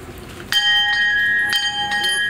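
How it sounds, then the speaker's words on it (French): A traditional bell rings out to open the 14th truffle and saffron market, three clear bright strikes with lingering metallic tones over faint background chatter. "Le lancement de la 14e édition a été donné au son de la cloche traditionnelle, vous l'entendrez"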